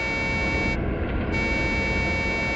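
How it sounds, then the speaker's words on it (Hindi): A loud, steady truck horn sounds as a signal in a forest over a continuous engine drone, briefly dropping out for a moment before resuming. "हॉर्न भी बजा रहा है।"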